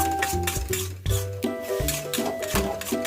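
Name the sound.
stirring mushrooms, spices, petai and shrimp in a pan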